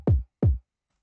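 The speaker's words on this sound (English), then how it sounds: "Now on to the next kick drum," Electronic kick drum sample for a bass house track, two punchy, deep thumps with quick pitch drop and short decay, evenly spaced and isolated against silence.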